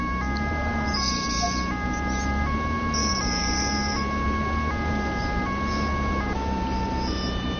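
A police car siren from the video game Police Simulator 2 wails in a steady stepped two-tone cycle, loud and continuous, with brief faint voices beneath it.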